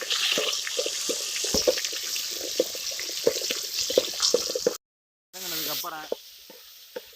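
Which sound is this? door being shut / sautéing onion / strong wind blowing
sautéing onion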